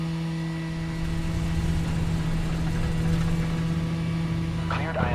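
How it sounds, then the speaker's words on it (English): Right engine of a simulated aircraft starting up at a Salt Lake City area airport, a steady mechanical hum with a strong low tone that swells slightly as it catches and runs, with a brief burst near the end. "Right engine is going. There we go. We got the right one started."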